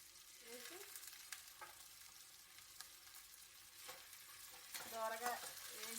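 Green chillies and curry leaves frying in a pan, a faint, steady sizzle with light stirring scrapes that grows slightly louder toward the end.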